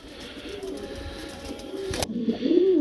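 Red-eyed pigeons kept for sale coo close by, a soft, rolling coo swelling near the end over steady background noise, with one sharp knock partway through.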